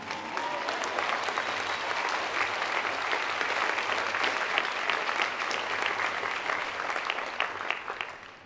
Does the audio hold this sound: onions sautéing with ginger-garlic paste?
no